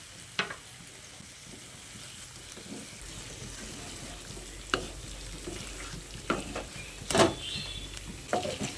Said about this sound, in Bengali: এই পর্যায়ে আমি মশলার সঙ্গে অল্প সামান্য একটু গরম জল দিয়ে কষিয়ে নিচ্ছি।